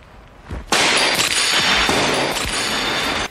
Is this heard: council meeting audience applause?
no